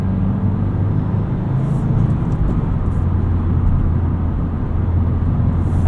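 Steady engine drone of a 2025 Subaru WRX tS with a deep exhaust rumble, loud and continuous at low speed, with no talking.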